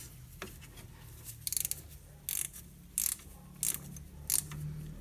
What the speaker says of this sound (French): vous prenez une clé de 17, vous la placez comme ceci pour venir bloquer. Et ensuite, on vient serrer à l'arrière.